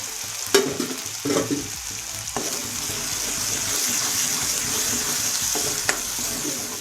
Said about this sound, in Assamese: অকণ মই সুন্দৰকৈ আৰু অলপ ভাজি ল'ম